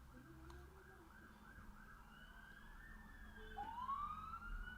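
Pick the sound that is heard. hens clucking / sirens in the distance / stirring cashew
sirens in the distance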